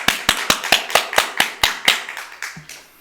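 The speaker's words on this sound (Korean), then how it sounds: "여러분 박수로 한번 축하해 주시기 바랍니다" Church congregation clapping to honour members' birthdays at a Sunday worship service, a sparse, slow run of about nine or ten distinct claps, fairly close, that thin out and fade near the end.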